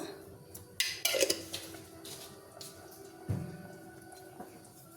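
Chickpea sambar stirred in a cooking pot, with a few sharp metallic clinks and scrapes of a spoon against the pot followed by softer stirring noises, close and moderately loud.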